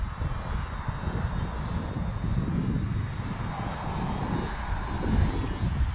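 An EazyRC PA18 ready-to-fly RC plane flies in gusty wind, its motor a steady, fairly loud drone mixed with wind buffeting across the whole stretch, with no voices.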